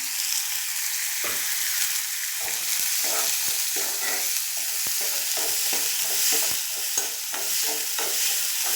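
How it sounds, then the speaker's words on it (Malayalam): Onions sizzle in a pan over a continuous frying hiss while a spoon scrapes and clicks against the metal in a loose, repeated rhythm, close and fairly loud throughout. "സവാള ഒന്ന് വരട്ടിയെടുക്കാം"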